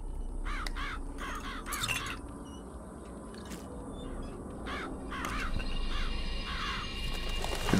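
Several crows caw in short harsh bursts in BioShock Infinite, summoned by the Murder of Crows power, scattered across the clip over a low rumbling background.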